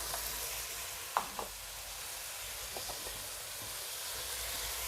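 Tomatoes drop into a sizzling pork and shrimp sweet-and-sour stir-fry, with a steady loud hiss of frying oil broken by a couple of brief clanks of the spatula against the pan.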